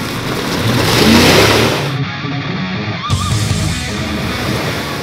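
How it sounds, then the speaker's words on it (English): A Dodge Durango engine revs hard while the SUV goes mudding off-road, swelling to a loud peak early and then holding a rough, steady drone with no voices over it. "is going to attempt his first ever mudding experience in his Durango"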